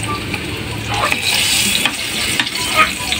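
Banana fries sizzle in hot oil, a close, bright, continuous frying hiss with small bubbling crackles that swell slightly toward the end, no voices.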